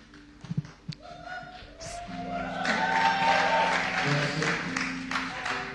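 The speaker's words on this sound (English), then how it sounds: "give them a round of applause as they share what love looks like" A church congregation breaks into applause at a morning service, the clapping swelling from a few scattered claps into a fuller round over sustained musical tones, with brief talk early on.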